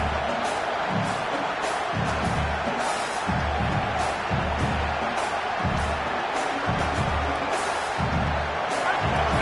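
A college football stadium crowd roars as a steady, dense wall of noise, with rhythmic thumps and surges beneath a broadcaster talking throughout.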